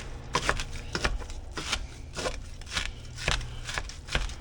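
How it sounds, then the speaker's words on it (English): Knife chopping through icy frozen turkey meat, a run of sharp, crunchy cracking strikes repeating at an uneven pace, close and fairly loud with no talk. "still chopping up ice in here. Stupid frozen turkey."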